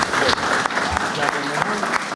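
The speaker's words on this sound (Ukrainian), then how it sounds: "посвідчення зараз можна аплодувати" An audience in a hall applauds the introduction of a new regional governor, with steady close clapping under a voice speaking over it.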